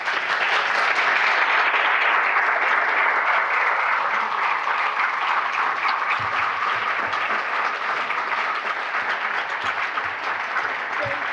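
An audience applauds steadily to welcome the poet Rita Dove at a reading, with dense, sustained clapping that filled the room and faded slightly toward the end, without anyone speaking.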